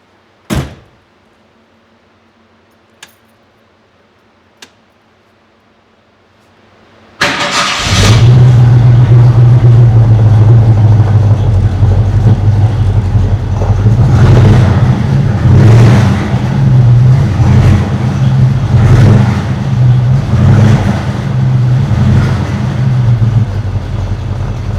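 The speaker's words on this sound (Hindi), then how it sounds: "एक बार मैं गाड़ी आपको स्टार्ट करके दिखवाता हूँ।" A 1968 Ford Mustang sits quiet with a few clicks and a door sound, then the engine cranks and fires loudly, settling into a deep, rumbling idle with repeated revs swelling and falling, close by.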